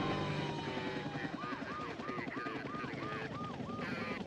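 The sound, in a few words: TVA news helicopter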